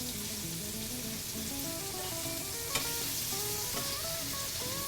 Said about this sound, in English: Just want to give these a flip. Let them cook on the back side.